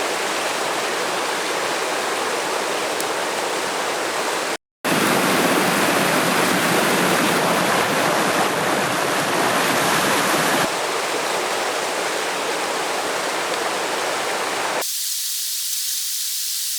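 Water pours steadily into a container, a loud, close, broadband rushing hiss that cuts out briefly, shifts in tone partway through, and thins to a fainter high hiss at the end.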